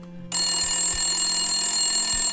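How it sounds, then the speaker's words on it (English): A phone starts ringing abruptly after a moment of near quiet, a loud, steady electronic trill with bright tones that carries on without a break, with a few faint low thuds underneath. "I hear the phone ringing."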